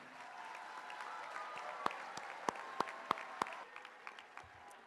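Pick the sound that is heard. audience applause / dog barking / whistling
audience applause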